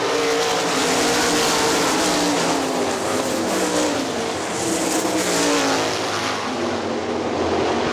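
Sprint cars race on the dirt oval at Hartford Speedway Park, engines roaring loud and close in a sustained, layered howl as the pack thunders past without letup.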